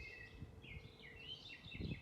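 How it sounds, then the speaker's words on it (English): Birds sing outdoors from a tree in a steady series of high, twittering calls over faint background rumble, with no one talking. "The birds are out, they are singing among us"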